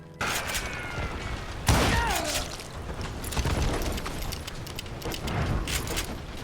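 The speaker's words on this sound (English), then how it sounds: "Who's shooting at us? We're under fire!" Western-style gunfire erupts in the Call of Juarez Gunslinger video game, with sharp shots and heavy booms spread over a few seconds amid game sound effects and character voices.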